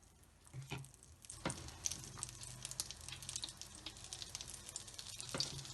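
Akara bean fritters frying in hot oil over medium heat, a steady close sizzle and crackle with occasional louder pops and bursts as batter hits the oil.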